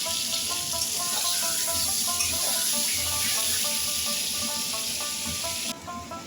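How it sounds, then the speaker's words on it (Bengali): Potato pieces fry in hot oil in a home kitchen while cooking a fish and radish curry, giving a steady, close sizzle and hiss with faint crackles throughout. "ওই তেলে আবার আলুটাও ভেজে উঠিয়ে নেব।"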